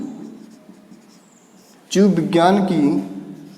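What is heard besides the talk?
writing on the board during a lesson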